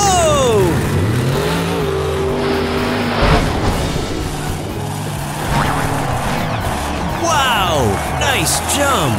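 A cartoon monster truck engine revs and roars loudly as it launches over five buses, with skidding tire squeals and whooshing effects, while a voice talks over it.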